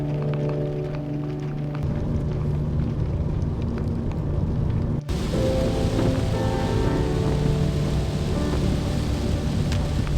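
Heavy rain pours down steadily and loudly, a dense continuous wash of noise with a low rumble underneath and no voices.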